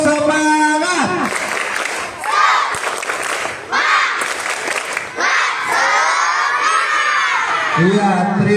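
Elementary schoolchildren at a National Children's Day assembly doing the tepuk semangat clapping chant, bursts of rhythmic claps and loud shouted chanting from a large group, with cheering swells and an adult voice at the start and end.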